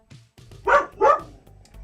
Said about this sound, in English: Kind of a cuddle me now type of bark that she has.